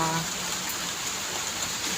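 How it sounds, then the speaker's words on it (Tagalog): Heavy midday rain pours down steadily in a dense, continuous hiss with no breaks, loud and close throughout. "Sa lakas ng ulan talaga dito."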